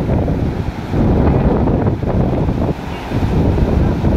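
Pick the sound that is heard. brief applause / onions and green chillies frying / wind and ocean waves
wind and ocean waves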